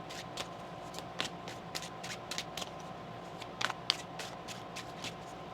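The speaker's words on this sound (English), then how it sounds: "One more shuffle here." Tarot cards are shuffled close up in a quiet room, making soft, repeated riffling and slapping bursts at an uneven rhythm, with no voice.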